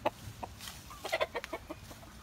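Chickens cluck in short, scattered bursts nearby, soft and irregular over a steady hum.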